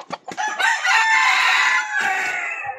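A wild labuyo junglefowl rooster gives a few short clucks, then one loud, close, drawn-out crow that holds for about two seconds before tailing off.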